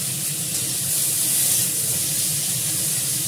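Tomatoes with a pinch of salt frying in a pan, a steady close sizzling hiss running evenly throughout with no voices.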